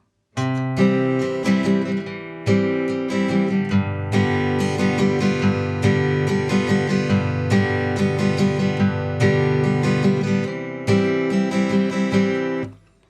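Acoustic guitar played in a repeating strum pattern for a song, each bar opening with a single picked bass note before the chords; steady, close and clear, no voices.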